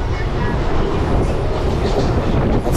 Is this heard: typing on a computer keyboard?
no